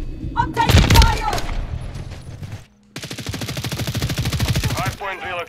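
Sustained machine gun fire in a video game, a dense rapid burst that cuts out briefly and then resumes in a long, loud, even stream, with shouted voices over the start and end.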